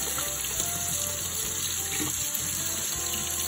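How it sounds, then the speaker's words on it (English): Running water pours steadily into a kitchen sink as beets are rinsed under the tap, a continuous close splashing hiss with faint knocks of the roots against the basin, no voices. "she's washing beets in the kitchen sink"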